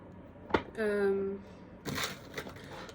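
A short click and a brief vocal sound, then a quick papery riffle of tarot cards being shuffled close up.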